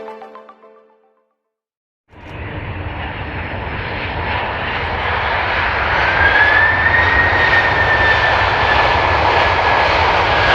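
An Airbus aircraft engine on a test flight roars in after a brief lull, a loud, steady broadband rush with a thin rising whine that grows gradually stronger and holds without break.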